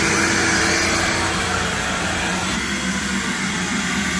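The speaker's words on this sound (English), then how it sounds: "Are you gonna vacuum?" A vacuum cleaner runs in a workshop, a loud continuous rushing whine held steady throughout with no pauses.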